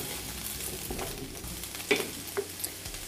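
Vegetables sizzle softly in a frying pan as they are stirred, a steady low frying hiss with a few brief scraping clicks from the utensil, heard close and alone with no talking.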